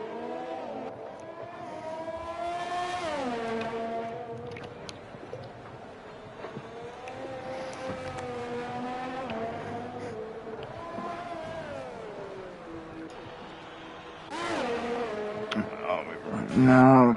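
Race cars, a Renault among them, scream around the Singapore street circuit in a racing game, engines rising and falling through gear changes as several cars pass in turn, loud and continuous, ending with a sharper roar.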